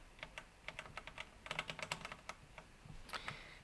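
Fingers type on a mechanical gaming keyboard with optical-style switches, a quick irregular run of sharp, crisp key clicks close to the microphone, with a burst of faster strokes near the end.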